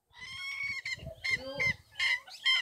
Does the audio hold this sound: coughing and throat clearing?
no